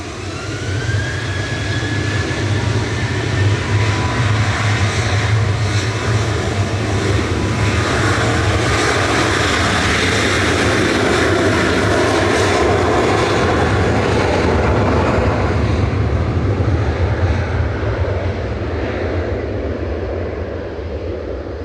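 An airliner departing Manchester Airport in the evening fills the air with a continuous, heavy, close engine roar and a faint climbing whine, sustained without a break.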